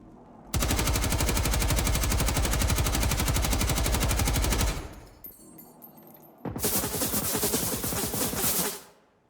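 Automatic weapon fire from the video game Generation Zero, two long bursts of rapid, loud, evenly spaced shots separated by a brief quieter gap with faint mechanical clatter.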